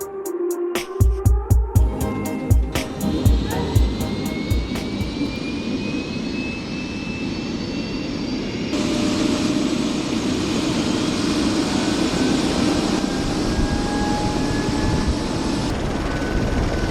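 A helicopter carrying a mounted camera flies close by, a loud, steady turbine roar and rotor wash that fills the whole stretch and grows a bit stronger partway through, with a few clattering thumps at the start and no talking.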